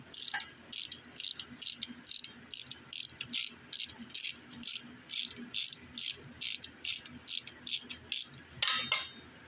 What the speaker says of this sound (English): And now we're taking the manifold header bolts out.